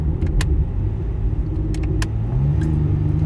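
A Hyundai Genesis Coupe 3.8 with a Solo Performance exhaust accelerates, a deep, close exhaust rumble building in pitch over a few seconds, with a few light clicks and rattles inside the car.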